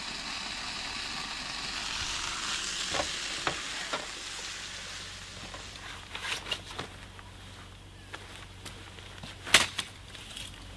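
Leftover French fries and cheese frying in a pan, a steady greasy sizzle throughout with occasional sharp clicks and scrapes of stirring, close and moderately loud, with no talking.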